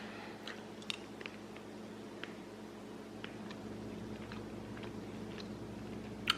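A coconut-flavored Bean Boozled jelly bean is chewed close up, soft sticky biting and squishing clicks scattered irregularly over a quiet room hum, with no talking.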